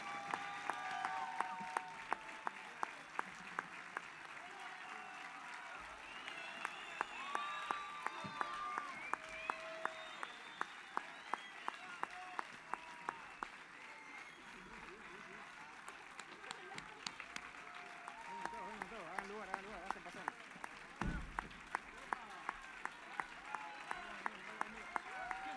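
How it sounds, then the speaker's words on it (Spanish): An audience claps for a jazz big band at a concert, a sustained wash of applause from a crowd that swells and fades, while a presenter speaks over it. "Este aplauso también va para Michael, que no llegó hoy."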